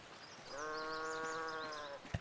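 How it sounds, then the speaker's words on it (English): A sheep bleats loudly in a Dimworld RP Eco game, one long wavering cry lasting about a second and a half, followed by a brief sharp knock. "You are a very loud sheep."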